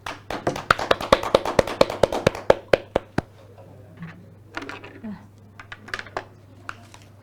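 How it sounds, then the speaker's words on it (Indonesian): A group claps in a quick, even rhythm at the close of a community procurement discussion, a dozen or so sharp, near claps over about three seconds, followed by quieter talk and scattered taps. "Tepuk tangan."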